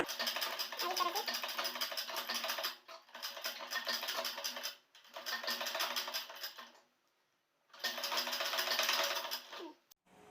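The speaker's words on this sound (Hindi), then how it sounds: "ये देखिए इस तरह से आपको इसमें सिलाई लगाना है" A sewing machine stitches a decorative design onto a small child's pajama, running in loud, rapid bursts of several seconds each, separated by short pauses, close by with no talk.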